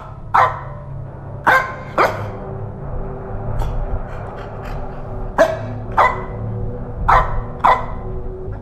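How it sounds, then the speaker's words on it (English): A dog barks in an indie horror video game, with single and paired barks recurring at irregular intervals over a steady low ambient hum, fairly close and loud, with no talking. "Dog's barking at something."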